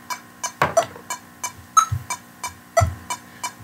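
A metronome set to triplets at 60 bpm with two beats per bar ticks steadily in a close, even stream of about a dozen clicks, with stronger accented beats recurring regularly over a faint hum.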